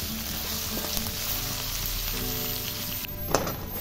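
Onions with a bay leaf frying in oil in a wok, an even, close crackling sizzle throughout with a brief clink of a utensil near the end.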